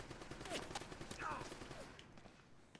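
Turret gunfire in the video game Uncharted: Drake's Fortune, a faint, distant string of rapid shots running under a person talking.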